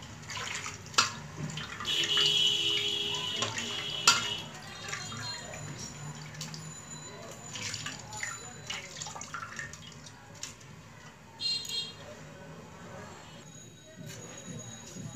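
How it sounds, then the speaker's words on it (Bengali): Washed fish is squeezed by hand to press the water out, giving wet dripping and splashing sounds with a few sharp knocks, close by and moderately loud amid kitchen background. "দেখুন এবার একটা একটা জলগুলো একদম ছাড়িয়ে নেব চেপে।"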